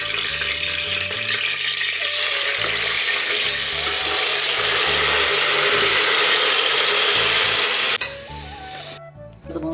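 Jeerakasala rice sizzles as it fries in coconut oil for a coconut-oil biriyani. A loud, dense, steady hiss carries on for most of the clip over a low tonal background, then drops off sharply near the end.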